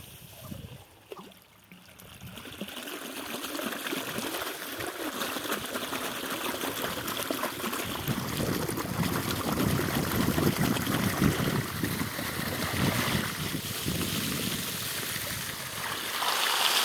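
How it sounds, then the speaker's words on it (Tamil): Bore well water pours into a farm field in a steady, continuous rushing gush, loud and close, after a brief quieter moment at the start. "பாருங்கள், தண்ணி பாய்க்கிறேன்"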